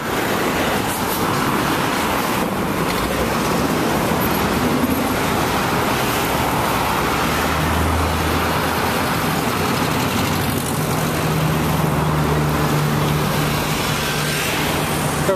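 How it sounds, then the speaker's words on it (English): Steady street traffic in Acapulco, Mexico, a dense continuous roar of car engines and tyres passing close by, with low engine rumbles swelling midway, heard alone without talk. "to get across this traffic."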